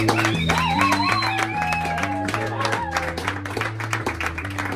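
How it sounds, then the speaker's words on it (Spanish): An audience claps and cheers at a live underground rock show at La Campana Underground in Zaragoza, crowd applause blending with sustained music and voices in the room. "Un aplauso a Julio"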